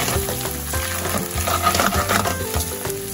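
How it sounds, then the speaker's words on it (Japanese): Unwashed raw rice and bacon stir-frying together in a pan for a Venetian pea risotto, with a steady close sizzle broken by stirring scrapes throughout. "生のお米を洗わずにこのまんま一緒にね炒めてあげる。"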